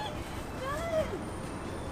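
Large birds honking outdoors across from a hotel in a suburb: a single short, nasal honking call rising and falling over steady background hum, moderately close, with no talking.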